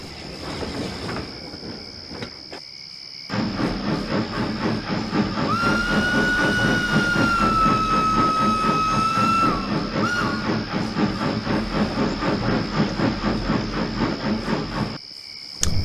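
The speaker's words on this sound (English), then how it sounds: "it sounded like a train whistle" A steam train whistle sounds a long steady tone over loud hissing steam and rhythmic chuffing, the engine rumbling close by throughout.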